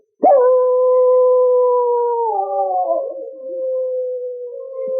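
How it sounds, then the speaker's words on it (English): A single dog lets out a long, steady howl that holds its pitch, wavers midway, then trails on, loud and close. "One evening, Ricky nosed open the door of the cabin and howled at the full moon."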